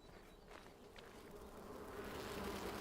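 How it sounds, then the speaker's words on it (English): Bees buzzing in the game Enshrouded: a faint, steady insect drone under soft ambient noise, with a few light ticks early on, gradually swelling slightly louder toward the end. "We also got bees."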